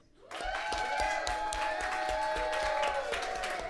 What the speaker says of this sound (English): Everybody give a huge round of applause for magician Jeffrey Day.